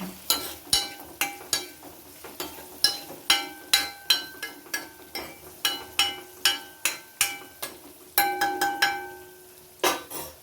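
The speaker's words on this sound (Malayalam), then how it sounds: "മഞ്ഞൾ പൊടി ഇട്ട് മഞ്ഞൾ പൊടിയും ജസ്റ്റ് ഒന്ന് മൂപ്പിച്ച് കൊടുക്കണം." A metal spoon clinks and scrapes against a pan while turmeric powder is stirred and roasted for pickle. The strikes come in steady, fairly loud taps with short ringing tails, alone and without talk.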